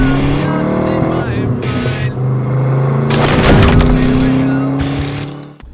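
1994 Ford Mustang GT convertible with a 5.0 V8 and 5-speed on a test drive, the engine loud and near, revving up and down through gears with a strong surge mid-clip before easing off.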